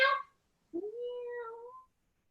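A person imitates a cat with one drawn-out, rising meow after a brief sound at the start, during a Pilates class, alone in a quiet room.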